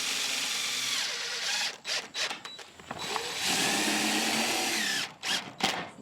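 A power drill drives 1.5-inch deck screws with washers through a tarp into a wooden coop platform, whirring loudly up close in long runs broken by short stops and ratcheting stutters.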